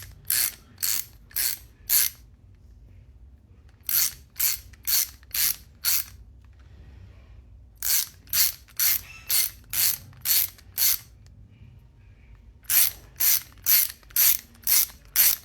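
A ratchet tightens 3/8 countersunk bolts with jam Nylocs on a Ford Bronco flat belly skid plate, clicking in four quick bursts of about five sharp, close strokes each, separated by short pauses, with no voices.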